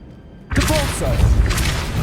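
A Depulso spell fires in Hogwarts Legacy: after a quiet lead-in, a sudden heavy boom hits and carries on as a loud crashing, thudding blast with a sweeping whoosh through the rest of the moment.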